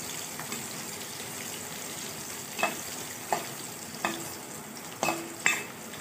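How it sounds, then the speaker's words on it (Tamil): Sliced onion and four crushed garlic cloves sauté quietly in a pan. A soft, even sizzle runs throughout, with a handful of light spatula scrapes spaced about a second apart toward the end. "நல்லா பெரிய வெங்காயம் வதங்கணும்."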